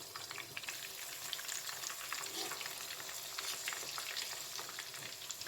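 Peshawari chapli kebabs fry in a pan of oil with a steady, dense crackling sizzle, close and even throughout, broken by occasional sharper spits and pops, with no voices.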